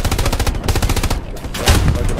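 Rapid machine-gun bursts from the World War II shooter Hell Let Loose rattle close and loud in dense repeating volleys, with a short lull midway before the firing resumes.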